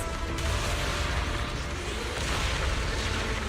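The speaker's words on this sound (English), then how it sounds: "Move in during the gaps between explosions" Explosions in the Zenless Zone Zero video game, a continuous loud roaring wash of booms and bursts with no gaps, layered over dense game effects and rumble.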